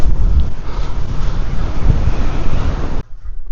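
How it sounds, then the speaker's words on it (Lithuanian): Strong wind buffets a microphone on a beach while a paraglider launches, a steady loud roar with gusty swells that drops off sharply near the end. "koks geras vėjas, negaliu patikėti."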